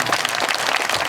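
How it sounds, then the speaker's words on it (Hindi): Loud applause from a crowd at a family jagran ceremony, a dense burst of clapping filling the short moment. "जोरदार ताली मार दियो।"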